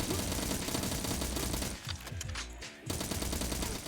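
Dense, continuous gunfire in the first-person shooter video game Agent 64: Agents Never Die, with rapid automatic bursts filling nearly the whole stretch and only a short lull near the end before the shooting resumes.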